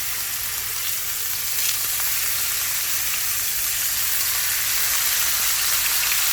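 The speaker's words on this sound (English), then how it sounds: "When the heat is ready, time to sear the fishes." Fish fillets sear in hot olive oil in a pan, giving a loud, steady, close sizzle and crackle that runs unbroken throughout with no talking.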